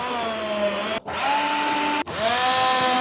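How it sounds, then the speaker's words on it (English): A power drill bores into a wall to mount a Flexson bracket for a Sonos Era 100 speaker, running as three loud, close, steady bursts of high whine with two brief stops between them. "Let's drill it up."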